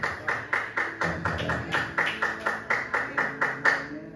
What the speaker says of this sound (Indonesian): yang tepuk tangan